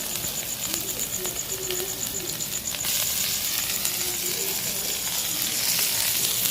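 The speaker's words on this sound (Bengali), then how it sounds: "রান্না করতে করতে এবার দিয়ে দেবো টমেটো টমেটো কুচি" Chopped tomatoes hit hot oil in a pan for egg tadka, a steady close sizzle and crackle that swells midway and keeps hissing, with faint clinks of utensils.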